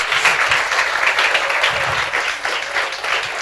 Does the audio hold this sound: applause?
yes